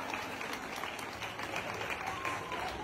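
Scattered clapping and crowd noise during a push-up contest, a fairly faint, continuous patter of applause with people shouting and talking over it.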